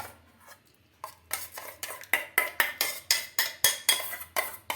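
Spoon working sour yogurt into mutton biryani in a metal pot: about a dozen rhythmic scraping strokes that grow steadily louder, close up, with no talking.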